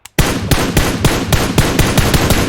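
A Kar98 rifle in the video game PUBG Mobile fires loud, sharp shots in a fast, even rhythm at close range, each one cracking hard and standing alone with no talk.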